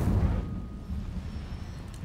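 Incendio fire spell cast in Hogwarts Legacy, a short deep whooshing burst of fire that swells at once and then rumbles on faintly for a moment.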